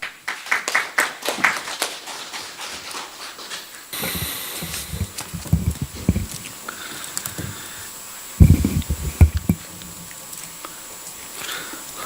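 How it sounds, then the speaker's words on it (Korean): Scattered clapping from a small audience at a Jeju provincial council debate forum after a presentation, brief bursts separated by quieter room noise, with a louder flurry near the end. "다시 한번 우리 강경식 위원님께 큰 박수 부탁드리겠습니다."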